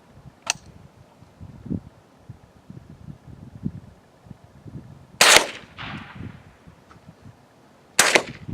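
Rifle gunshots during ballistic testing outdoors: a faint early crack, then two sharp, loud reports several seconds apart, each trailing a short echo, with quiet rustling between.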